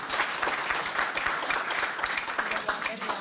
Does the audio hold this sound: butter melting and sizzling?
no